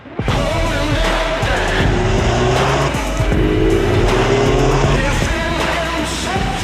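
A 2019 MINI car drives at speed, with a steady, loud engine roar and tire noise sweeping through gear changes, continuous and close, with no talk heard.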